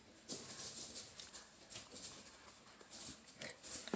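A dog growls in a low, rough rumble in a quiet pen with puppies nearby. The growls are faint and come in short bursts, with no one talking.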